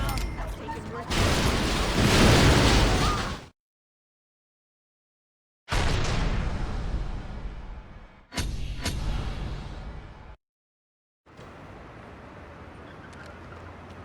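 Grenade blasts in Saints Row 2 erupt in three loud bursts with gaps of silence between, each a roaring boom that decays into rumble, followed by a quieter stretch of game noise.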